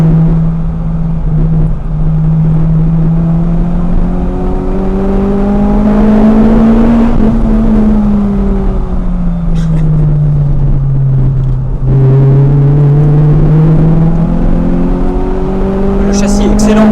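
A 2002 Toyota Celica T23 TS with a 1.8-litre VVTL-i engine while driving, its loud steady drone rising and falling in pitch as revs change, with people talking inside the car.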